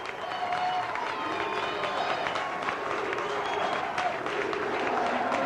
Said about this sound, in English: They're applauding the players.